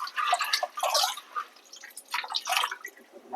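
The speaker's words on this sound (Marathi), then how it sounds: "हे पावटे साफ धुवायचे व्यवस्थित" Soaked field beans (pavte) being rinsed by hand in a vessel of water, with repeated splashing and sloshing in short bursts, close and fairly quiet, no talking.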